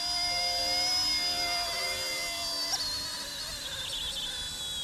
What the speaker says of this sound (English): So if you want to land normally, just bring the throttle down.